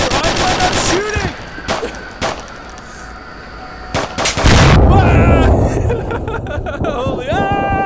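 Gunfire from the VR shooter game Onward: loud bursts of automatic fire and single shots, with sharp cracks spread over the span and heavier fire in the second half, along with game effects and a faint murmur of voices.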